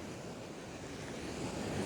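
Sea waves washing steadily onto a sand and stone beach in Mersin after storms, a continuous broad rushing surf with wind buffeting the microphone, no voices.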